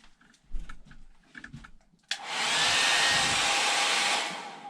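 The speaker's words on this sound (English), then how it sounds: "now instead of spreading that out, we're going to use the blow dryer" A few soft clicks and handling noises, then a blow dryer switches on over poured paint and roars steadily up close for a couple of seconds before easing off.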